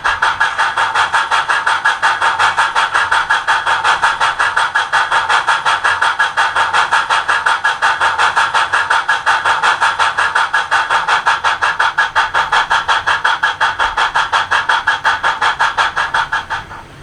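A Rapido S160 OO gauge DCC sound-fitted steam locomotive runs in heavy mode, its simulated exhaust chuffing in a rapid, even rhythm, loud and constant before easing off at the end.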